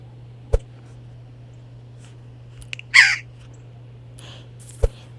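A default notification sound effect resembling a baby crow's caw plays once, short and nasal, between a few faint clicks in an otherwise quiet room.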